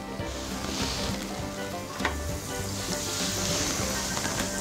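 Flour-coated chicken, dipped in seasoned flour, sizzles steadily in hot oil, a continuous close crackling hiss with a few sharper pops and no talking.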